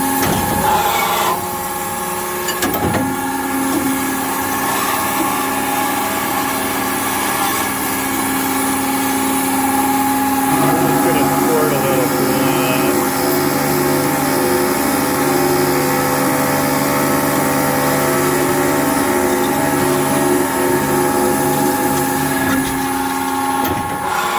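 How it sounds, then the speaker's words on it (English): A Tsune TK5C-101GL metal-cutting machine making a trim cut, a loud, steady mechanical whine and hum that runs throughout with a shift in tone partway through, close and with no talking. "Making a trim cut."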